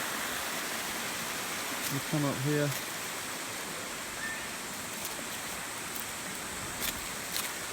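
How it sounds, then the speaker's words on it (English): Water from a creek in a subtropical rainforest spills over rocks in small falls, making a steady broadband rushing wash that runs throughout, with a brief spoken phrase partway through. "And you've got the water spilling down over the rocks. And a couple of small falls."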